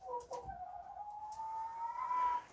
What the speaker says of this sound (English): so we've got 8 chickens in here.